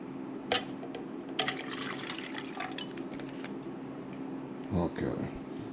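Water trickles and splashes into a plant pot reservoir inside a grow tent, with a few louder pours and clinks, quiet and close.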